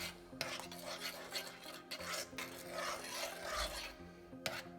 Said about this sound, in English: So I've added in the Turkish yogurt, which I am going to stir in to this curry sauce.